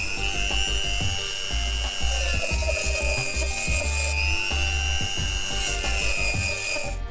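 Tin can being cut along a paper-tape guide line, a steady close scraping and rasping that keeps up without a break, with faint tonal ringing from the metal above it.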